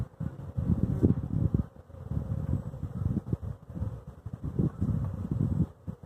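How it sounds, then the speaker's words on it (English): Honey bees swarm around leftover honey at an apiary, a continuous close buzzing that swells and fades in uneven pulses as insects fly past. "Bad bees. Trying to steal all this honey that was left over."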